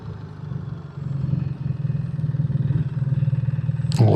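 A 2025 BMW R 1300 GS Adventure with ASA transmission rumbling at a low, pulsing engine note while riding, steady and close, with a louder swell at the very end.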